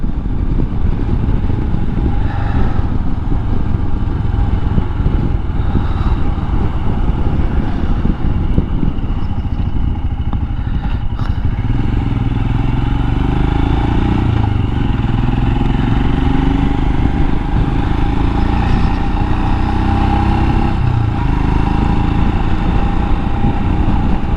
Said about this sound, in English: the wind is definitely picking up again